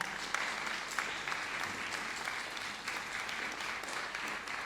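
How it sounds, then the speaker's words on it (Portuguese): An audience at a book presentation ceremony in Guimarães, Portugal, claps steadily for a conductor after a choir's performance, a dense, sustained round of applause with no speech over it. "peço um aplauso para ela, da maestrina Ana Almeida."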